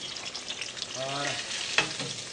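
Pizza fritta frying in hot oil, a steady close crackling sizzle with brief bubbling bursts, faint voice in the background.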